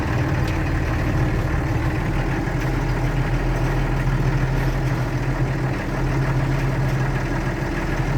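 Mercedes-Benz LA328 truck engine running steadily with a loud, constant low rumble, heard close up and alone for several seconds without any talk.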